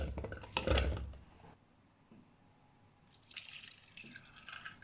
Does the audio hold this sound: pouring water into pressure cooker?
yes